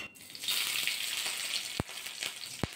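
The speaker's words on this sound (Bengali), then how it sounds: "লঙ্কাটা কিন্তু হালকা করে আমি ভাজা করে নেবো প্রথমে।" Green chillies fry in two spoons of mustard oil in a wok, giving a steady, bright sizzle throughout, broken by a couple of sharp clicks or taps near the end.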